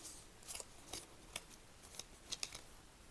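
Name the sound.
scissors cutting fabric for kimono jacket sleeves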